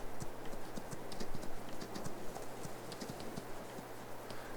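Horse hooves clip-clop in a steady, even rhythm on a horseback riding trail in Farming Simulator 22. The hoofbeats sit over a soft, continuous ambient bed with faint bird-like chirps.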